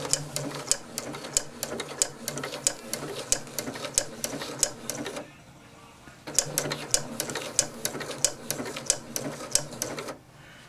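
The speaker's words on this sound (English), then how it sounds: "Now that configuration I have on the machine," A Janome 8077 sewing machine fitted with a daisy foot stitches a flower pattern in two runs with a short pause between, a rapid steady ticking rhythm with sharper periodic clacks, close and fairly quiet.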